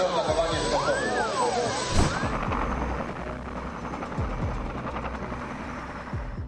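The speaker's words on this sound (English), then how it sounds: "the helicopter's rotor blades hit one of the crane's cables, causing the aircraft to spin out of control" A helicopter's rotor blades strike a crane cable and the aircraft crashes: a dense, continuous roar with whistling tones, a sharp smash early on, then rumbling debris and turbulent noise, with faint voices mixed in.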